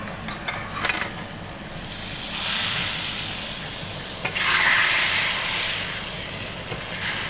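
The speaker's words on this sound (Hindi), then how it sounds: "अब डलेगी साबुत लाल मिर्च और इसका तड़का लगेगा।" Hot oil crackles and sizzles as whole dried red chillies hit the pan for tempering kadhi, the hiss swelling in bursts with a few sharp spits and stirring knocks.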